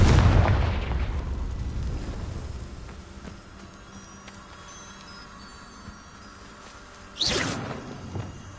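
A Confringo blasting spell goes off in Hogwarts Legacy: a loud booming burst opens the clip and decays into a low rumble, then a second sharp whooshing blast hits near the seven-second mark over quiet game ambience.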